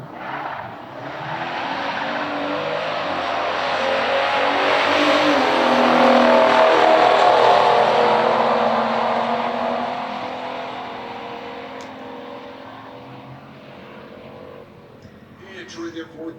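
A 1972 Chevelle and a Ford Torino launch side by side in a stock drag race, engines roaring loudly as they accelerate away, the noise swelling and then fading down the strip with some tire squeal.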